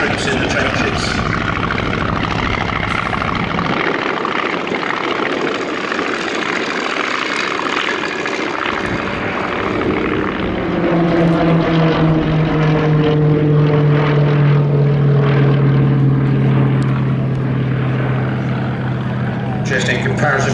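A vintage propeller aircraft flies past at the Shuttleworth airshow, its engine droning steadily and loud. The tone swells and shifts in pitch as the plane passes close by, with no talk over it.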